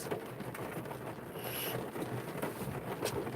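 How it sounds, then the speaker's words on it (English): Rain falls steadily outside a parked car, a dense continuous patter with rough wind-like rumble, even and moderately loud throughout, no voices. "It's raining."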